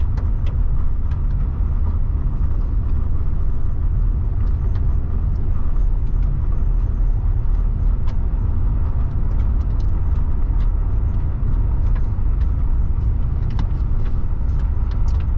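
A car rolls steadily down a rough back road near an opal mine in Nevada, its loud interior rumble and road noise constant throughout, with small rattles and clicks from gravel or bumps.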